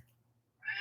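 A cat gives one short, faint meow at the very end, rising out of near silence after a low background hum.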